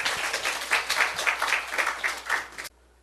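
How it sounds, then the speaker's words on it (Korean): A church congregation at a Sunday service bursts into applause, a dense, rhythmic wash of many hands clapping in a large room that swells in pulses, then cuts off sharply. "우리 하나님께 박수 올리자"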